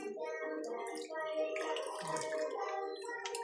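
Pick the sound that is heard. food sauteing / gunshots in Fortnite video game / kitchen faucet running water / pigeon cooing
kitchen faucet running water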